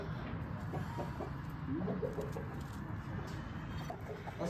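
Aseel chickens of the Kraken breed cluck on a poultry farm, a scatter of soft clucks and short calls close by over a steady background murmur, with no one talking.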